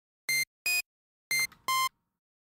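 Sytrus FM synth set to a saw-wave operator at a high frequency ratio, giving four short, bright, buzzy high-pitched tones with harsh aliasing, played in two pairs with no voices.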